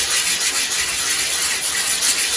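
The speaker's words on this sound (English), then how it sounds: "Sand down the sides." A small ring made from pallet wood gets its sides sanded in a steady, close, dry rubbing scratch that continues without a break through the brief stretch.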